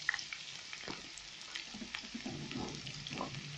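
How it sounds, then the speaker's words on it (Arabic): Onions dropped into hot oil on a gas stove give a soft, steady sizzle with faint crackles, fairly quiet and with no voices. "الزيت بتاعنا سخن، نسمي بالله كده، ننزل البصل بتاعنا عليه"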